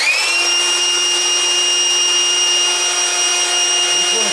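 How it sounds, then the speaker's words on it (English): A belt sander held in a vise with its trigger strapped on smooths the edges of an Ibanez guitar fretboard, a loud, close, continuous high-pitched motor whine with steady, unbroken power throughout. "A belt sander and a vise with a tie strap, whatever you call those, to hold the trigger"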